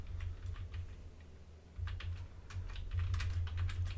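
Soft, rapid keystrokes on a computer keyboard, typed deliberately quietly while entering SQL commands, forming a steady run of close clicks that grows a little busier toward the end over a low hum, with no talking.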